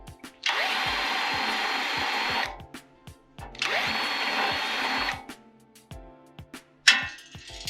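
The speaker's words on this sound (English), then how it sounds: "if you use that, it will grind the top of the Rivnut off" A power drill bit grinds against the head of a rivnut during a Honda CB500 motorcycle rebuild, two sustained whirring bursts of about two seconds each separated by short clicks and knocks, then a brief sharp scrape at the end, close and loud.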